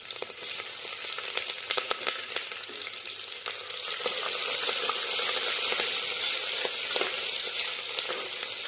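Onions and green chillies fry in a pan with a steady, close sizzle that grows a little louder midway, broken by scattered clicks and light stirring.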